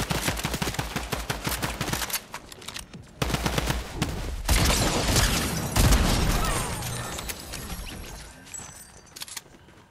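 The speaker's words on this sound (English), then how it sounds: "Oh, they just tried shooting." Fortnite gunfire, loud rapid volleys of shots and automatic bursts packed closely together, with a short pause before heavier blasts resume and taper off, no voices.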